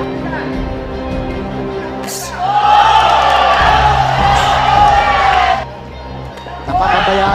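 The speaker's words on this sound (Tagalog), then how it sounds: "Crowd." A boxing match crowd roars and whoops in loud swells beneath continuous ringside commentary, dipping briefly before surging again.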